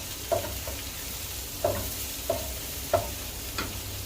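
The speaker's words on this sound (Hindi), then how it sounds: "तो पालक को मैं पकाऊंगा जब तक इसका पानी थोड़ा सा खुश्क हो जाता है।" Chopped spinach sautés in a pan for a creamy Tuscan chicken pasta, a soft continuous sizzle broken by four or five sharp scraping stirs at roughly regular intervals.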